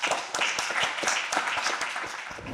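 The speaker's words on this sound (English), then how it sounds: "Round of applause." An audience at a live startup pitch event applauds, giving a lively stretch of dense, sharp claps that rises quickly and holds fairly loud throughout, with no one speaking.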